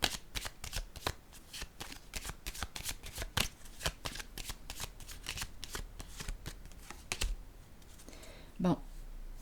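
Tarot cards are handled and laid down on a table, with a run of quick, close, crisp card snaps and shuffling clicks. Near the end a person briefly talks.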